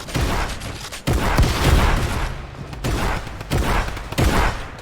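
Rapid gunfire from a shotgun fight in the game Fortnite, several loud bursting shots in quick succession, close and dense, filling the whole stretch.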